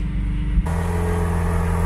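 A Lamborghini Aventador S Roadster engine idling in sport mode with the engine bay open, a deep steady rumble that jumps louder and fuller partway through as the sport setting engages, then holds at a constant throb.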